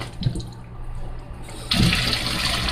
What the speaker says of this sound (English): I'm going to wash my shrimp now